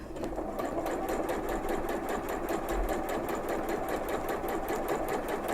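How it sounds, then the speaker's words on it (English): A sewing machine stitches a half-inch seam allowance, running a fast, even, continuous mechanical clatter close by, with no pauses and no talk. "And then drop your lever, continue sewing"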